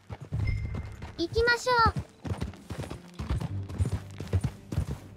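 Horse hooves clip-clop in a steady walking rhythm in Red Dead Redemption 2, close and clear, with a brief whinny early on and people talking over the hoofbeats.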